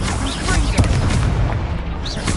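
An Incendio fire spell cast in the Hogwarts Legacy video game, heard as loud, booming, explosive bursts over dense game audio, with a voice speaking.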